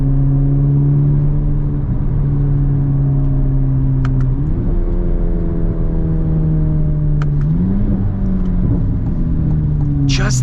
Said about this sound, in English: Just the sound that this engine makes, it is so crazy.